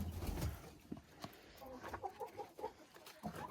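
Hens clucking in a backyard poultry yard with a rooster nearby, soft scattered clucks and murmurs at close to middle distance, fairly quiet, with faint voice-like sounds in between.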